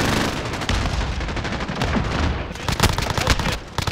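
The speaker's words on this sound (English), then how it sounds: "MG42 gun. Mow him down." MG42 machine gun in a Modern Warfare shooter firing long, rapid bursts, loud and close, with dense rattling shots and a few heavier cracks near the end.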